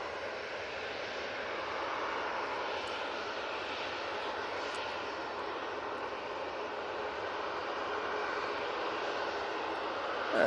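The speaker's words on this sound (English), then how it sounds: "Helvetic Embraer in next." A Helvetic Embraer jet arriving from Zurich at Manchester Airport gives a steady, distant broadband roar that holds evenly throughout with no speech.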